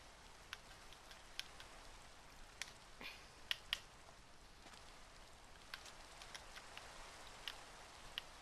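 Rain falls in Minecraft with a faint, steady hiss and scattered sharp drop ticks, soft and continuous, with nobody talking.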